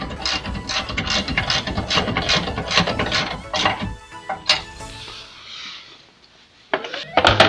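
A ratchet fitted with a 14 mm socket tightens a bolt on a jack mount, giving rapid rhythmic clicking bursts up close, then a pause with a few softer clicks and a scrape near the end.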